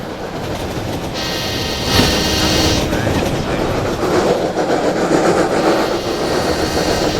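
A Roblox video game train speeds along the tracks at about 50 miles per hour, with a loud steady rumble and clatter, a brief horn-like tone near the start and a continuous rushing roar throughout.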